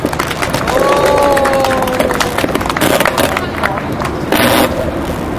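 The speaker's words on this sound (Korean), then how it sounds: "김원열 교수님을 큰 박수로 모시겠습니다" A crowd at a protest sit-in and candlelight rally claps to welcome a speaker: sustained applause and cheering with murmuring voices, fairly loud and continuous, with a brief sharper burst near the end.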